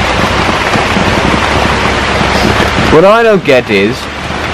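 Heavy rain falls in Paris as a dense, loud, steady hiss of rain on surfaces, with a voice speaking over it toward the end.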